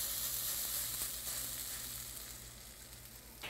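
Potato mix sizzling steadily in hot canola oil in a pan, a continuous broadband hiss that eases slightly toward the end, with no voices.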